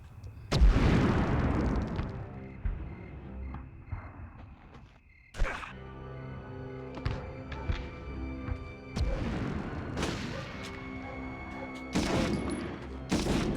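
Rifle fire and grenade blasts from a Medal of Honor video game: heavy booming explosions with rumbling tails, mixed with bursts of gunshots in a loud, dense battle scene, and no voices.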